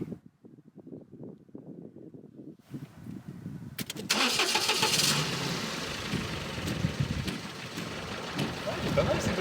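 Talking at first, then an engine cranks and catches, settling into a steady rumbling idle with voices continuing over it.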